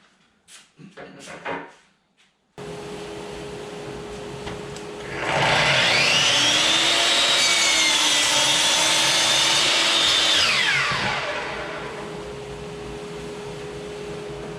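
A table saw with a dado stack whirs up to a steady hum, then bites into wood for keepsake box finger joints, the cut rising to a loud whine for several seconds before easing back to the idling motor.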